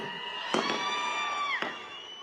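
A crowd at a Mahayuti election campaign rally for candidate Shahaji Patil in Sangola cheers and whoops, with sharp whistle-like tones and a couple of brief bursts over a steady, fairly loud roar.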